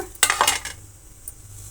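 A pot set down on a home kitchen stove before oil is added for a village-style horse gram and greens curry, giving a couple of close metallic clanks and scrapes followed by quiet.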